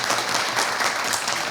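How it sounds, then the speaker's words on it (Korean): A seated audience at a dharma talk breaks into applause, a dense, even burst of clapping heard alone and moderately loud. "예, 여러분 박수 부탁드려요."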